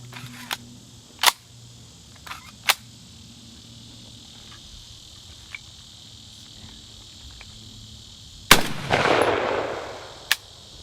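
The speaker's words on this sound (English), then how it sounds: "let's see how the gun shoots with the bayonet on it" A Johnson rifle fitted with a bayonet fires several sharp, separate shots outdoors, the last followed by a long rushing echo, with crickets chirping steadily in the background.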